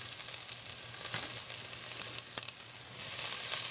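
Chopped onions and ham sizzle and fry in a hot pot, a steady close crackle with a few sharper pops, growing a little louder near the end.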